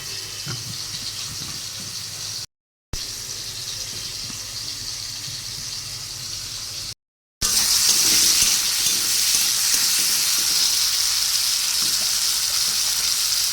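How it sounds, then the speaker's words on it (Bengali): Fish frying one by one in hot oil in a pan, a continuous crackling sizzle broken by two brief silences, then growing louder and brighter as more pieces go in. "মাছটা এক এক করে ভেজে নেব।"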